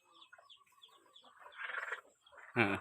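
Village hens cluck in a series of soft, close calls that build into a louder burst of squawking, ending with a sudden sharp noise near the microphone.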